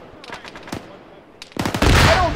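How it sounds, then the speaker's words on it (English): Gunfire in the video game Morale: Shattered: a few sharp scattered shots, then a dense, loud burst of rapid automatic fire in the last second. "Landshark, you better shoot that thing!"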